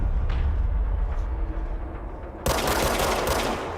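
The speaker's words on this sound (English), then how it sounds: "Well, we can shoot pretty fast." Dense, rapid gunfire in the video game Control, sustained and loud at close range, with a harsher, brighter burst of shots kicking in near the end.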